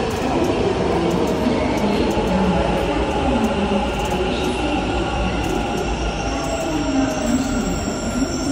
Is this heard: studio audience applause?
no